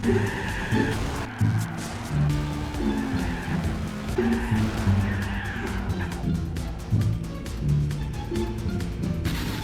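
Race car engine in Gran Turismo on the London City circuit, with revving that rises and falls as the car shifts and corners, plus tyre squeal, loud and continuous for the whole stretch.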